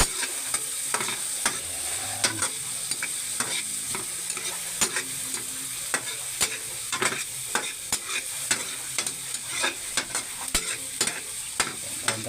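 Plenty of chopped onion and garlic sizzles in a pan while a utensil stirs it, giving a steady close frying hiss broken by frequent scraping clicks, with no talking.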